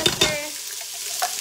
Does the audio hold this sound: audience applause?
no